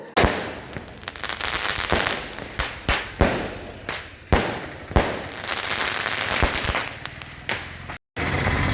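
Firecrackers burst in rapid succession at a BJP victory celebration in Kidangoor, Kerala, a dense crackling barrage punctuated by louder sharp bangs, close and loud throughout.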